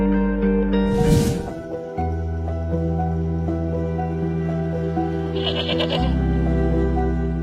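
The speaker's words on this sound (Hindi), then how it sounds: "एक बकरी खरीदी है मंडी से और वो मुलाजिम लेकर आ रहा है पीछे।" A goat bought at a livestock market bleats twice, once early and once later, fairly close, over steady background music.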